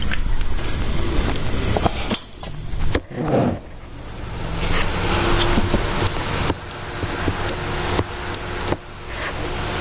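A car engine with worn, loose bearings runs at idle up close, a rough steady rumble broken by a few knocks and clunks, with no one speaking.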